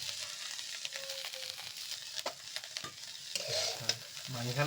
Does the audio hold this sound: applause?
no